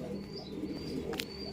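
Pet pigeons coo in low, soft murmurs close by, with a faint high tone running through and a brief sharp flutter or chirp near the end.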